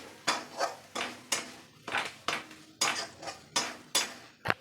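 A spoon repeatedly drags through almond and cashew paste in a pan for chandrakala filling, making about nine close, rhythmic scraping strokes, each a gritty swell that fades before the next.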